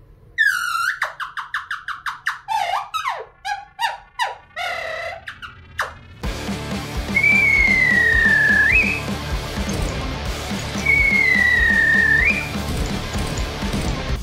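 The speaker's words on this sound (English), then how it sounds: "When I am angry, I whistle like this." A person whistles a few rising and falling notes, followed by two long, loud sliding whistle tones over a noisy background.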